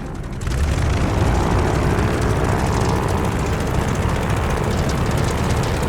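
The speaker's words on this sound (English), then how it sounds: "All right, do an engine run-up." Aircraft propeller engine run-up in the Call of Duty: Vanguard video game, starting after a brief quiet moment and then holding a loud, steady roar close by with no voices over it.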